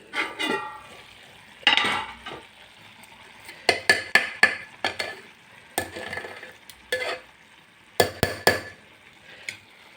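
A ladle mashes and stirs drumstick leaf rice in a pot, giving a string of sharp, close knocks and scrapes against the metal in irregular bursts over a quiet background.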